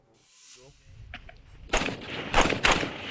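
Ukrainian troops firing U.S.-supplied M4 rifles, several sharp loud cracks in close succession near the end after quieter rustling and a faint voice, shots ringing out outdoors.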